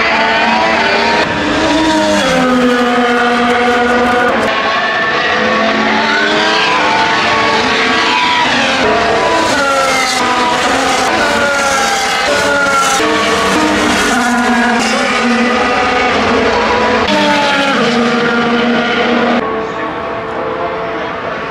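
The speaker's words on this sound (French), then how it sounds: "j'ai vu mon tout premier tour de Formule 1" Formula 1 cars racing at the Suzuka Grand Prix, loud engine whine rising and falling continuously as cars pass and shift, with crowd and track ambience throughout.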